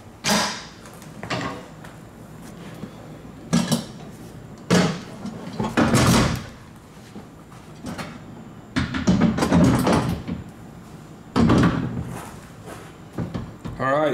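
Seat being fitted into a BMW E36 drift car: scattered knocks, thumps and clunks of the seat and mounting hardware in the cabin, some sharp and loud, interspersed with quieter stretches.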